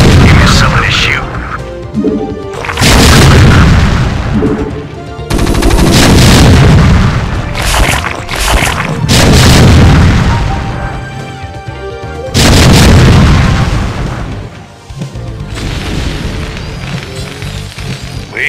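Gunfire and explosions from the StarCraft video game, Terran mission, in loud repeated bursts of booming blasts and rattling shots layered with game music and unit voice lines.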